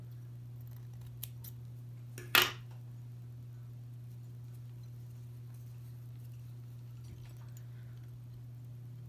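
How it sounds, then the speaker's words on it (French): Scissors snip fly-tying floss in a single short, crisp cut close by, with a faint click just before it over a low, steady hum. "Je peux venir couper ma soie à cet endroit-là."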